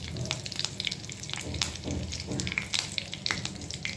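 Curry leaves dropped into hot oil crackle and sizzle loudly and close by, with scattered sharp pops and spattering bursts over a steady frying hiss, for a vegetable sabzi in a home kitchen.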